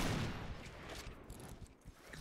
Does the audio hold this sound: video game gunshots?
yes